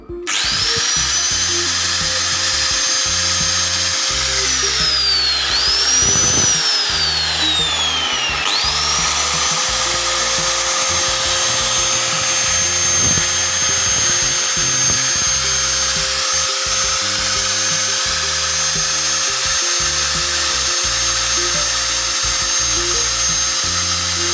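An angle grinder runs steadily and loudly the whole time, its high whine dipping and sweeping as the load shifts, with a rattling, pulsing hum underneath.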